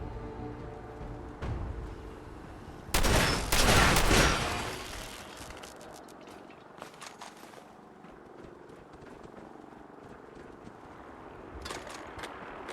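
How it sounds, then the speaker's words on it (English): Shotgun firing in Fallout 4, a loud burst of blasts around the third to fifth second with sharp cracks and clatter afterward, then quieter scattered clicks and a few more sharp hits near the end, no talk. "this is a much more powerful shotgun"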